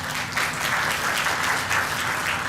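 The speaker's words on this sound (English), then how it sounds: "Let's give them applause first" Audience applause at an international education conference greets a large group of guests, a steady, dense patter of many hands clapping evenly throughout with no break.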